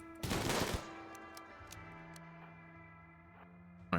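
A burst of automatic gunfire in the RimWorld video game, a short loud rattling volley that cuts off abruptly, followed by faint isolated ticks and a low lingering hum.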